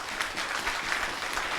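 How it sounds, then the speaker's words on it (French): A church congregation applauding during a pastor's ordination ceremony: steady, moderately faint clapping from many hands, continuous throughout without talk. "On a applaudi le Seigneur"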